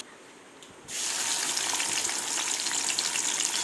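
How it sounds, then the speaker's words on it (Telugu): Paneer curry ingredients dropped into hot oil: after a quiet moment a sudden loud, bright sizzle bursts up and keeps crackling steadily, close and with no talk. "సేమ్ అదే ప్రాసెస్ మళ్ళీ ఫ్రై చేసుకోవాలి."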